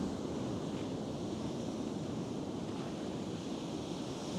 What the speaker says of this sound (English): And some amazing waves.